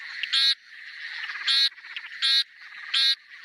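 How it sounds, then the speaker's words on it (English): Frog calls: four loud, buzzy croaking bursts at a steady rhythm, each about a quarter second long, with a softer trilling chorus continuing between them, close and clear with no talking. "every frog species around the world makes a different call"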